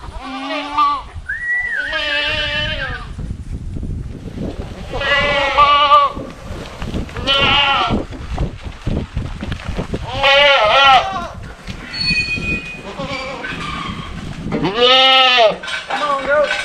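Several loud, close goat bleats, repeated at irregular intervals, with quieter rustling and background noise between them.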